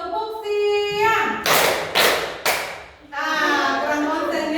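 Classroom afternoon clap routine with crisp, closely spaced hand claps, voices chanting around them before and after.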